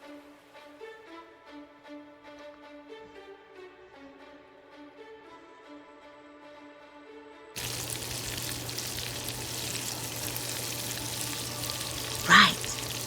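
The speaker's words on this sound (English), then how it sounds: "It's very spicy because of the ghost peppers. So I deep fry for just 2 minutes." Ghost-pepper spicy shrimp dropped into hot oil to deep fry, a steady loud bubbling sizzle that starts abruptly partway through after quieter music, with a brief sharp pop near the end.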